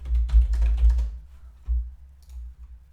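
Computer keyboard keys tapped in a quick burst while entering a password, a dense cluster of clicks followed by a few scattered taps and a short pause, close and moderately loud with no talking.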